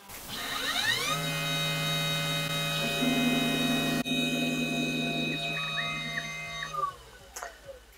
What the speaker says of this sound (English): If our code and everything is correct up to this point, the machine will have moved to this position and paused.